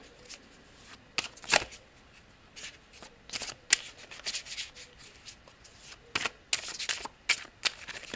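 Oracle cards are shuffled by hand for a reading, giving soft, close, intermittent riffling and rubbing bursts in a quiet room with no voices.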